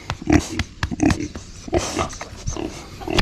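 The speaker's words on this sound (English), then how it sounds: "It's not easy being a big fat pig." A big fat pig grunts and snorts up close in short irregular bursts, with some rustling movement between sounds and no talking.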